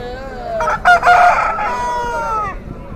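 A rooster at a country-chicken market lets out one loud, close crow. The call is broken into a few pulses and trails off over about two seconds, with faint market bustle behind it.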